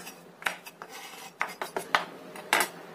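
A knife chops bird's eye chilies on a cutting board while fried rice is being prepared, giving a series of sharp, close taps and clicks in an irregular rhythm with short quiet gaps between them.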